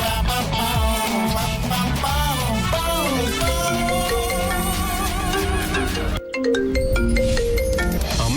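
An incoming-call phone ringtone playing a loud, continuous melodic tune of layered tones, briefly cutting out near the end before resuming.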